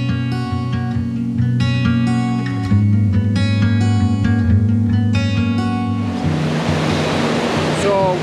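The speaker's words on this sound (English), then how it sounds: "I will show you so you can imagine how powerful this river really is." The powerful Karakol River in Kyrgyzstan, on a hike to Ala-Kul Lake, rushes as a loud, dense roar of water. Steady tones play over it at first before the torrent takes over alone.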